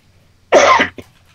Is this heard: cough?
yes